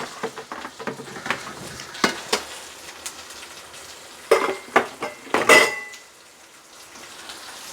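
Vegetable biryani ingredients with cashews, ghee and masalas being stirred in a pot, with a run of clattering utensil scrapes and clinks against the metal, some sharper knocks midway, then quieter stirring.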